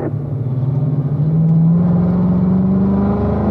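A car engine pulls hard with a steady, rising drone as it accelerates out of a corner on a race track at the Ron Fellows Performance Driving School, loud and close throughout.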